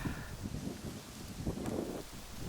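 Strong wind blows across a hunting seat in open country, producing a steady loud rush with gusty buffeting against the microphone.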